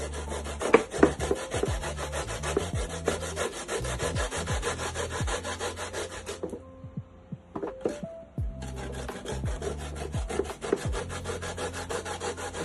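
Potatoes being grated by hand for Jamaican potato pudding, a steady rough rasping scrape repeated in quick strokes, close and fairly loud, pausing briefly midway before resuming.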